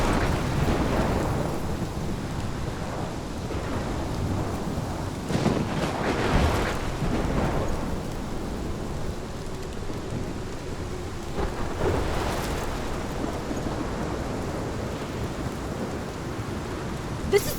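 A thunderstorm in the Life is Strange video game, with heavy rain hissing on surfaces and deep thunder rumbling and swelling in waves throughout, loud and continuous with wind buffeting, no voices.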